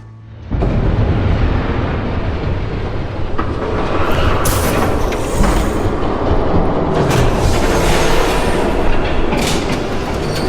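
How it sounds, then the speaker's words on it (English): A train approaches and passes in Batman: The Telltale Series, a sudden loud rumble of wheels and cars that holds steady for several seconds, with bursts of metallic screeching layered over the roar. "There's a train coming."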